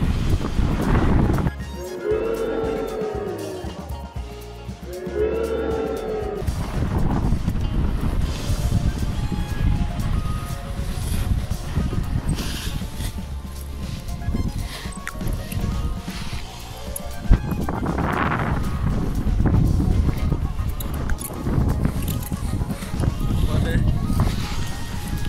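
Wind buffeting the microphone while paragliding, a loud continuous rushing roar that rises and falls in gusts, with people talking over it at times.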